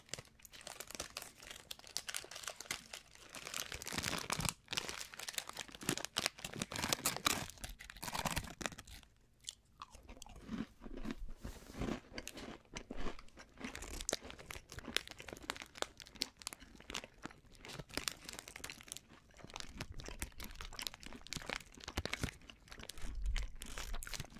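Gluten-free cookies bitten and chewed up close, with dense crisp crunching and crumbly crackles in irregular bursts, alone without talk.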